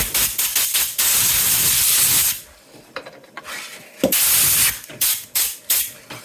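Compressed air sprays loudly in long and short hissing bursts while dusting off a Dean bass guitar, with brief pauses and a few rubbing, clicking handling sounds between blasts.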